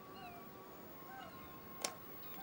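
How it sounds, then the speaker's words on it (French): Seagulls calling in the background, thin mewing cries that come and go faintly over a steady hiss, with one short sharp click near the end. "Pourquoi il y a des bruits de mouettes en fond?"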